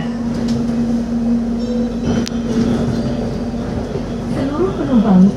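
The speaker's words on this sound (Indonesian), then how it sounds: "kalau sampai stasiun Duri, kereta bandara ini akan mundur guys" Inside the Soekarno-Hatta airport rail link train in Jakarta, a steady low rumble and hum of the running carriage carries on throughout, with a voice talking over it and a sliding pitch near the end.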